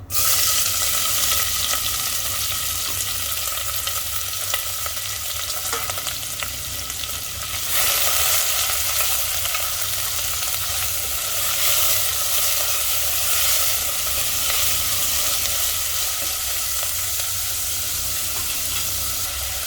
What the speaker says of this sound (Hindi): तेल गरम हो चुका है, इसमें प्याज डाल देंगे।